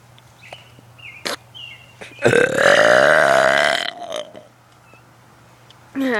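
One long, loud, rumbling burp lasting about two seconds, close up. Faint background noises come before it, and a short vocal sound follows.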